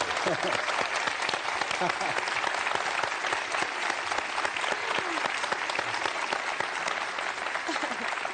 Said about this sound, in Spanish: me merece es un aplauso. Pero muy grande